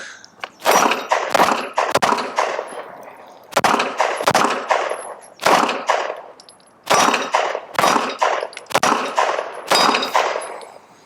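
A P365 pistol fires in loud, sharp, close shots, singly and in quick clusters of two or three, each ringing with a metallic clang echo, with short pauses between strings and no talk.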